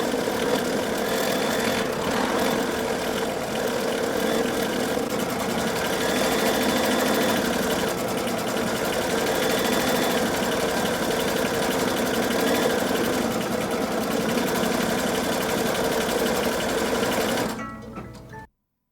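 An embroidery machine runs steadily and loudly, stitching continuous quilting on an in-the-hoop mini notebook cover, a rapid even chatter lasting many seconds before stopping abruptly at the end.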